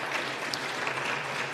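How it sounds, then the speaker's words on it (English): Audience applause for performers at a Salon Shabbat gathering, a steady wash of clapping hands heard briefly and fairly quietly, without talk. "I think we can give them some beautiful applause"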